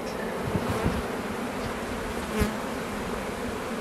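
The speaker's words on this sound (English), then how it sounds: "I shake the bees off like that" Dense, steady buzzing of honey bees swarming around an open hive, a close continuous drone with occasional louder passes of individual bees near the ear.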